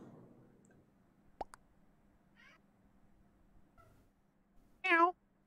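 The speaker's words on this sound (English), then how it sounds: "he just meows at the door to leave" A male house cat meows near a door, a single short clear meow late in the clip after quiet room sound and a few small knocks, with no talk over it.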